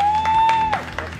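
Friends cheer and applaud in a Michoacán town, with scattered claps and excited voices rising over a steady crowd murmur, close and moderately loud.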